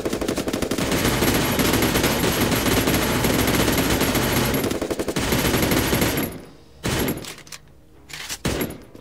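Dense, sustained automatic gunfire from the video game Garena Free Fire, loud and continuous for about six seconds, then cutting off into a few short scattered bursts and near-silence.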